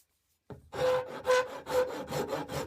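A rasp files a steel double bit axe head in slow back-and-forth strokes, a close, dry rhythmic scraping repeated about five times after a short silence, with no talking.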